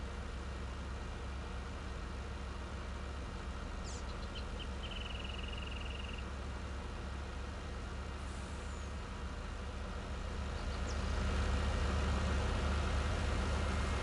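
A video game truck engine drones low and steady under load, rising louder toward the end as it labors, with a brief hiss of air brakes.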